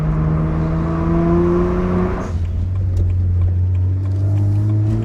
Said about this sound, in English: I love the N54 sound.